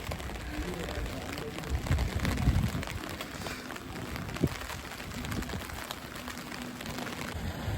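Steady rain falls outdoors on a cold evening, a continuous close hiss of drops hitting the ground and nearby surfaces. Faint bursts of talk and a few small thumps sit underneath it.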